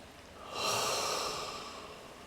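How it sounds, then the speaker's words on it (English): A single deep inhale during a guided meditation, a soft airy rush that swells and slowly fades, heard close and alone without any talk. "Let's breathe that in."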